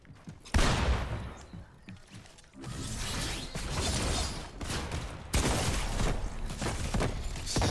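Shotgun fire rings out in a video game, with three heavy, close blasts spaced a couple of seconds apart, each followed by mechanical clatter and rattling.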